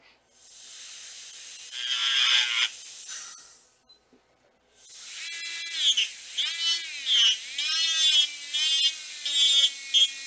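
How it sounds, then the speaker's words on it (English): Acrylic burr on a dental handpiece smoothing the rough edge of a 3D-printed denture, a high whining grind in two bursts separated by a short pause, close and moderately loud. "I'm just going to use just a regular acrylic burr to kind of smooth that edge there"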